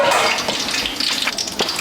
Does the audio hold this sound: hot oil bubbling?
yes